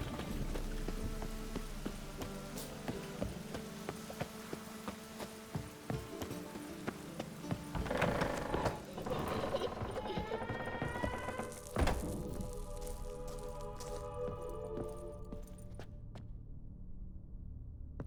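Rain patters through a Witcher 3: Wild Hunt scene on PS5 with clip-clopping horse hooves, faint and continuous, with tonal game music rising midway and fading out near the end.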